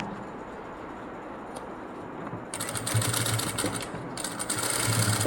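A sewing machine runs along a fabric edge while stitching a new design, its motor whirring in two steady bursts after a quiet start, fairly close and with no talking.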